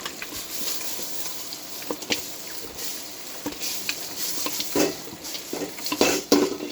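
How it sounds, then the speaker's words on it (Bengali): Cooked taro leaves being stirred with a spatula in a pan over the stove, a steady soft scraping with faint sizzle and irregular clinks of metal against the pan, louder knocks near the end, no talk. "এখন আমি ঘুটনি তুলে খুন্তি মানে হাতা দিয়ে ভালো করে নাড়াচাড়া করে নামিয়ে নেব"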